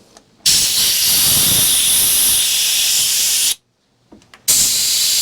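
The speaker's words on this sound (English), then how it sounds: "Use a sacrificial flannel here to protect the carb and blow those holes out." Compressed air blasts out through the holes of a Mercruiser 350 Magnum carburetor, shielded by a flannel: a loud, steady hiss for about three seconds, a brief pause, then a second blast starting up, with no talk.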